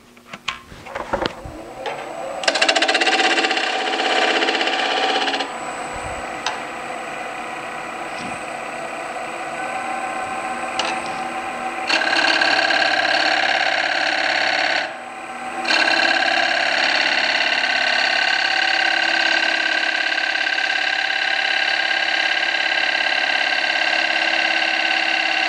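A bowl gouge held on its side in a scraping position works a rough-turned elm bowl spinning on a lathe, producing a steady, loud, continuous hiss and whir that runs for the whole stretch with only brief dips.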